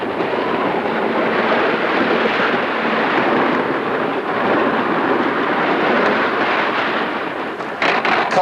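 Colossus wooden roller coaster train at Magic Mountain in 1978, running slowly during testing, a loud continuous rumbling roar with rattling that stays steady throughout.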